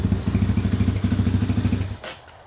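A 250cc Apollo dirt bike engine idles steadily after a cold start, a loud close-up rhythmic thumping putter that cuts out near the end.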